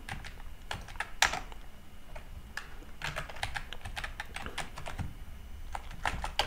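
Keys clatter on a computer keyboard while a command is typed into a terminal on OpenBSD, irregular quick clicks with a few sharper strokes, close and alone without speech.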